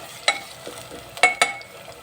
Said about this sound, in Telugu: ఒక రెండు నిమిషాల పాటు ఇలా వేయించుకోవాలి ఈ ఆయిల్లో వేగితే టేస్ట్ అనేది బాగుంటుంది